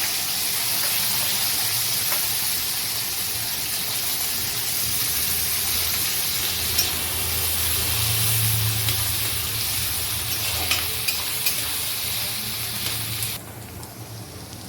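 Chopped onion, ginger and chili fry in hot oil for a banana flower and prawn dish, making a steady, close sizzling hiss that carries on evenly and then drops off near the end.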